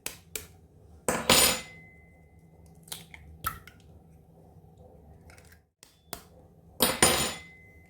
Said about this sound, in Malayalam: ഇതിനകത്തോട്ട് നമുക്കൊരു 3 മുട്ട പൊട്ടിച്ചിട്ട് ഒഴിക്കുക.